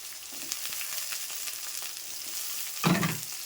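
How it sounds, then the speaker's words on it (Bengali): Potatoes fry together in a pan, a steady crackling sizzle throughout, with a louder burst of spattering and stirring near the end. "আমি আলুটাও দিয়ে দেবো দিয়ে একসাথে ভেজে নেব"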